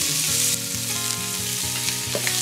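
Pork, onion and mushroom fry in a pan with a loud, close, continuous sizzle and bubbling crackle, steady across the whole stretch with no voices.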